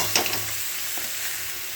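Carrot, green banana and eggplant pieces fry in oil, making a brief, steady sizzling hiss with a soft stir at the start.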